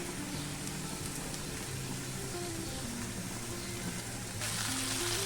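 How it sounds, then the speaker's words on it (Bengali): Taro stolons (kochur loti) sizzle steadily in a pan with turmeric and salt, a dense continuous frying crackle that swells slightly louder near the end, with no talking. "আমাদের লতিটা ভালোভাবে ভাজা হয়ে গেছে"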